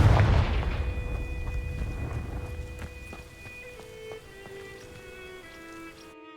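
Confringo fire spell cast in Hogwarts Legacy at dry vines: a sharp booming burst up front, then a long fading tail of ringing, shimmering magical tones that drop in pitch before cutting off.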